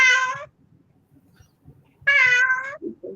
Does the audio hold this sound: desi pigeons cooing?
no